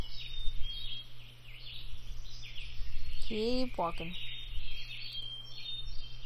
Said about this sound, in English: All the chirpy bird noises.